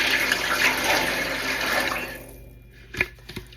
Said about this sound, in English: I'm adding 9 cups of tap water to the pan.